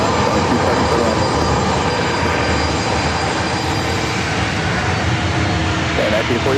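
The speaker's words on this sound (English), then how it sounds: "That is Southwest Airlines Flight 1700 heading to Oakland." Southwest Airlines jet airliner at San Diego airport, a steady loud engine roar sustained throughout, dense and unbroken, with a faint radio voice underneath.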